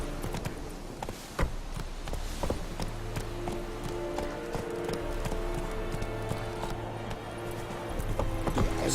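Horse hooves gallop steadily in The Witcher 3, a fast clip-clop running through the whole stretch over a busy game soundscape, fairly loud and continuous.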